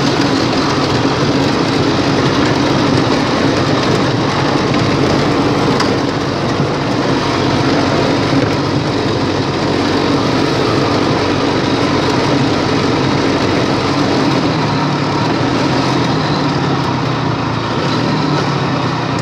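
A steady, hollow-sounding two-stroke mini buggy engine with a small motorcycle carburetor idles continuously, close by, with a dense low rumble and no talking.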